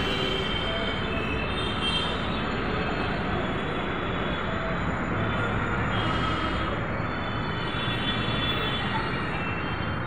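A metro train runs through a metro station, a loud continuous rumble of wheels and motors with faint squealing, steady for the whole stretch with no talk.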